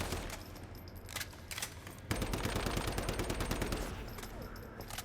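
An automated turret machine gun in the video game Once Human fires in sustained rapid bursts, a dense regular rattle that runs steadily through the second half after scattered shots earlier.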